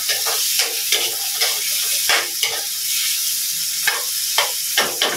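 Sliced bitter gourd (ampalaya) fries in hot oil in a pan, giving a steady loud sizzle broken by sharp spattering pops and stirring clatter at irregular intervals, with no voices.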